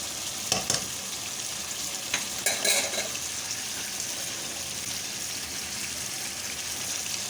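Crushed black pepper and spices stirred and frying in a pan, a steady broadband sizzle throughout with a few louder scraping stirs near the start, close and alone without talk.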